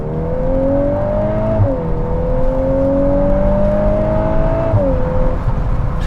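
A 2022 MK8 Volkswagen Golf R with a DSG transmission accelerates hard, its engine note climbing loud and steady before dropping sharply at each quick downshift, heard from inside the cabin with a constant drone of road and engine noise.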